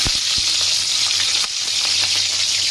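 Green chillies fry in a pan with a loud, steady hiss and sizzle, close up, with a few faint clicks from the pan.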